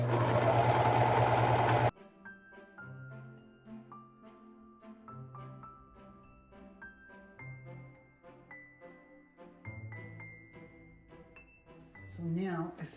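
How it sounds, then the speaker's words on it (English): A sewing machine stitches a stretched knit neckband seam on a turtleneck, whirring loud and steady for about two seconds before stopping as music plays on. "This is going to be stretched out a little bit as I'm doing the stitching to make sure that it all fits"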